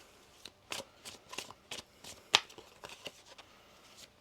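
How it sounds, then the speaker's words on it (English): A deck of cards is shuffled in quick riffles, several crisp bursts of fluttering card edges in an irregular rhythm, close and fairly soft. "One more shuffle here."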